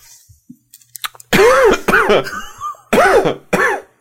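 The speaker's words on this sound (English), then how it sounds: "No, seriously, I had the cough" A man coughs several times in quick succession, loud and close, with harsh bursts and brief gaps between them, preceded by a few soft mouth noises.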